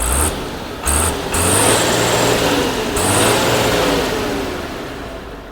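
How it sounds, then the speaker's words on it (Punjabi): An Agri Master tractor engine is revved repeatedly at close range, loud surges of rising droning roar that swell and ease off, with a brief high beep at the start and again midway. "ਤੁਹਾਨੂੰ ਟਰੈਕਟਰ ਦਾ ਸਾਊਂਡ ਵੀ ਚੈੱਕ ਕਰਾ ਦਿੱਤਾ ਹੈ"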